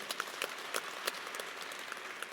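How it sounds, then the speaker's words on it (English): A crowd at a university football coach introduction and groundbreaking event claps warmly, a fairly distant, steady patter of applause with scattered sharper claps, no voices over it. "Give us another warm round of applause."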